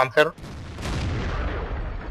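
A Soviet Object 140 medium tank fires its cannon in World of Tanks, a sharp blast after a brief voice, followed by a long low rumbling echo that fades slowly.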